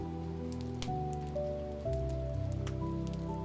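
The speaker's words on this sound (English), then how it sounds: "The gentle sound of rain remains, just as it did before the journey began." Gentle rain falls beyond a window, a steady soft patter heard alone over a sustained, drifting musical backdrop with low held tones.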